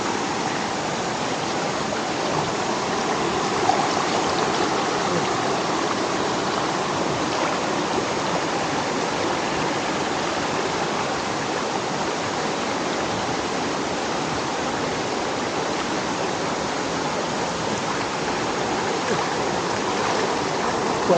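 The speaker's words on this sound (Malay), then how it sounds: "Kuat sangat air dia. Air dia kuat sangat." A strong, fast-flowing stream at a campsite, a loud continuous rushing roar of water that stays steady and close for the whole stretch with no voices.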